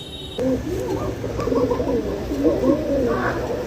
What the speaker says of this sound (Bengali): কবুতরের জোড়াটি যে পরিমাণ ডাকাডাকি করতেছে